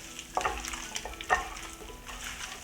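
Raw chicken wings tossed by hand with cayenne pepper and seasoning in a bowl, giving a few soft, wet squelching pushes at a low, close level, with no talk.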